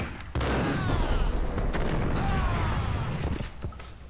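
A single loud gunshot rings out during a slow-motion jump in the video game Max Payne. It is followed by a drawn-out, rumbling, stretched-sounding burst of noise and faint trailing echoes.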